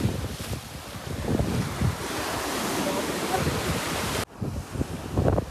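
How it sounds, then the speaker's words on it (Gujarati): Sea waves roll in at the Nishkalank Mahadev temple shore near Bhavnagar under light rain, a steady close surf wash with heavy wind buffeting the microphone and a brief drop near the end. "નિષ્કળંક મહાદેવના મોજા"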